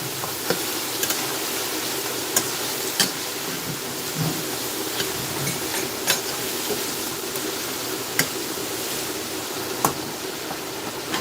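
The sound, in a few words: kettle of water boiling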